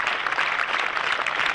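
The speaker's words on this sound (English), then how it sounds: "Prolonged applause around the ground." Applause around a cricket ground at a Sussex vs Warwickshire County Championship match, celebrating Jack Leaning's century: a steady, dense spread of clapping from the crowd, continuous and fairly loud.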